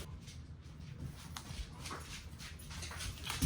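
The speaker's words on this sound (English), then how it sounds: "Uh-oh, the dogs are gonna go." Household dogs whimpering and yipping in short bursts inside a home, fairly close, over a low indoor background, with no talking.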